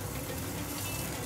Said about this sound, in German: halbierst diese und gibst sie ins Olivenöl und die brätst du hier drin